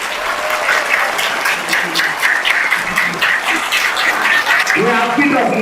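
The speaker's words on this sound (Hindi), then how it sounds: "तो एक बार जोरदार तालियां इनके लिए।" Loud, sustained applause rises from a crowd at a Maktab 2025 community programme during a trophy presentation, the dense clapping running about six seconds while voices talk through it toward the end.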